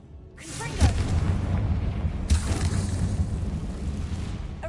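Confringo blasting spell in a wizard video game: a booming explosion bursts up, followed after a short pause by a second blast, each trailing into a rumbling roar, with a shouted incantation over the first.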